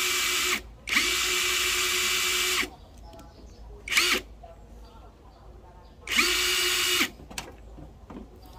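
A DCA 298 two-speed cordless screwdriver whirs in three bursts, one long, one brief and one medium, loud and close, with someone talking in the pauses.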